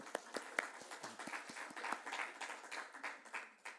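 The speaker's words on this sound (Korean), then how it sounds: "박수." Church congregation clapping in sharp, uneven bursts, moderately loud and close, a scattered round of applause inside a sanctuary with no talking over it.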